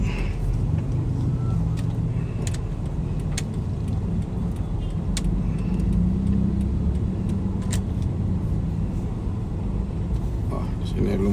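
Congested street traffic near the port on Jalan Sabutung, with cars and motorbikes rumbling and passing close by in a continuous dense drone, punctuated by brief sharper engine and horn-like bursts.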